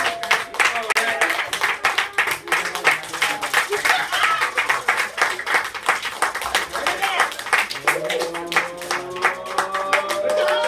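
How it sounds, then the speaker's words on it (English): Audience claps along in rhythm at a high school TV livestream game show while a prize wheel spins, with steady, loud clapping, voices and cheering mixed in, and a rising tone toward the end. "Let's clap as the wheels spin."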